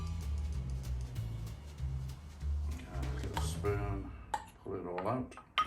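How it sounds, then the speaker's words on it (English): Bacon tipped into a cooking pan with garlic already in it, giving a few clattering scrapes and knocks of metal cookware over a low hum, with someone talking throughout. "Next thing is we chuck in the bacon, like so."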